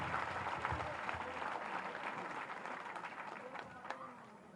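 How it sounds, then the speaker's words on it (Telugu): An audience at a school program claps in a dense, continuous burst of applause that slowly thins out, with voices talking underneath. "మన చేతులు పైకెత్తి గట్టి క్లాప్స్ కొడుతుండాలి"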